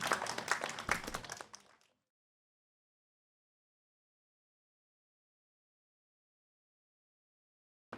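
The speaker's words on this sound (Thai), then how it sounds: "ขอเสียงปรบมือต้อนรับอาจารย์" A burst of clapping and applause from an audience at an art exhibition opening lasts under two seconds, then cuts to silence.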